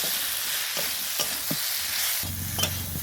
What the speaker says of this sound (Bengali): মশলাটা আমি দিয়ে এবারে কষে নেব আর একটু